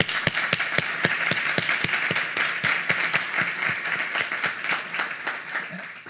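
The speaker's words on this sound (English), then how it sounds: "Let us give a big applause to all those who worked on Georgetown side." Audience applause at a Sophia University centenary ceremony, a steady patter of many hands clapping in a hall that stays loud and even throughout.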